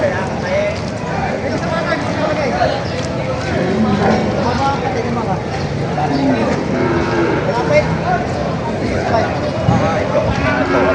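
Cattle moo repeatedly amid a crowded livestock auction market for breeding cows and heifers in Padre Garcia, Batangas, with steady background babble, hoof clatter and an auctioneer's voice under the calls.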